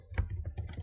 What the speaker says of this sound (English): You need to type,